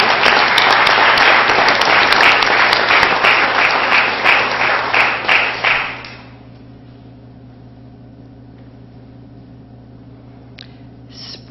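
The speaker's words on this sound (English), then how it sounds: "We applaud you." Audience at a 2016 spelling bee claps loudly in a dense burst of applause lasting about six seconds, then fades quickly to a quiet room hum with a few faint sounds.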